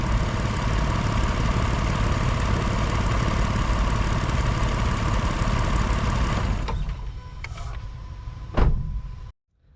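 A Mitsubishi Montero engine idles with a steady, loud rumble up close, then cuts off, leaving a few faint clicks and a short tick before silence.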